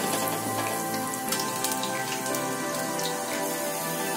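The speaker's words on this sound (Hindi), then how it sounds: "पकौड़ी को मीडियम फ्लेम पर फ्राई करेंगे जिससे आलू पक जाए।" Potato pakoras frying in hot oil over a medium flame, a steady dense crackle and sizzle with fine popping, moderately loud and continuous without voices.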